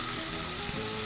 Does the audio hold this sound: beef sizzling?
yes